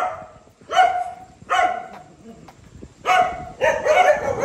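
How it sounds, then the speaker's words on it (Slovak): Several agitated dogs bark in loud, close bursts near an unfinished skyscraper in Pattaya, Thailand, with short pauses between volleys and a final run of overlapping, rapid barks. "Strašné psi, a tu bol ešte jeden taký, čo najviac asi štekal."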